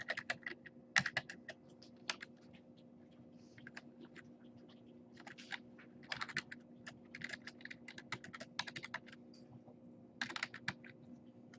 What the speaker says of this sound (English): You just start typing once it's selected.